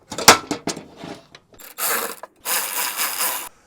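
Tightening a replacement part into place on a crash-damaged Mercedes-Benz: a few sharp knocks and clicks, then bursts of close ratcheting and scraping, with a longer steady rasping run at the end.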